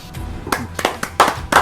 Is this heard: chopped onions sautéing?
no